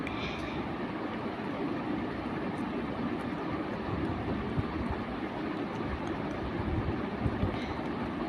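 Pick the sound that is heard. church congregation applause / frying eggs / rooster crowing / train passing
train passing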